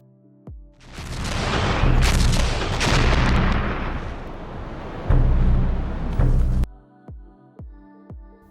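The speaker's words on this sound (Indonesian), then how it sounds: "pasukan Uni Soviet di area itu terus dibombardir oleh artileri Jerman" World War II German heavy artillery bombarding Soviet positions at Sevastopol, Crimea, roars in a sustained, loud barrage of booms, then cuts off, leaving a few sharp isolated blasts fading afterward.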